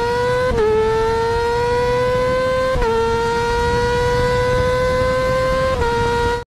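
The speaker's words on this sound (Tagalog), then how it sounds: "kapag naririnig mo nang nasa high RPM at maingay na ito" A loud, high-revving Motorstar Cafe 400 motorcycle engine drones continuously, its pitch dropping sharply and climbing again at three points as if shifting.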